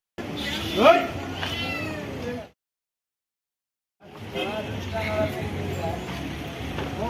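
Thin, high meows from a kitten rescued in traffic rise over background talk and outdoor noise, pausing for a silent stretch before more voices and faint cries return.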